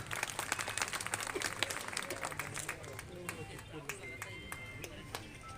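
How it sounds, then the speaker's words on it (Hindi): Audience applause at a temple gathering in Biaora with a state minister and MLAs present: scattered, uneven hand claps over a murmuring crowd, fairly distant and thinning out toward the end. "तालियां।"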